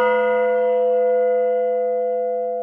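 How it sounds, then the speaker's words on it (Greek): A single bell strike rings out with a clear, sustained metallic tone that slowly fades, heard alone. "η Ναυσικά τόλμησε να απλώσει το χέρι και να χτυπήσει την καμπάνα"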